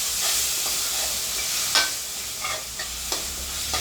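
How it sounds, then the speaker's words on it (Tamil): Masala for vegetable biryani sizzles in a pan with curd added, while a spoon stirs and scrapes in several distinct strokes over a continuous frying hiss, close and fairly loud, no speech. "தயிரும் ஆட் பண்ணி நல்லா வதக்கிடுவோம்"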